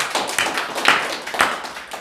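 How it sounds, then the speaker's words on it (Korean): A church congregation claps in worship, giving a short burst of loose, uneven hand claps with a few louder accents, fairly close and without talk. "하나님께 박수로 영광 돌리겠습니다."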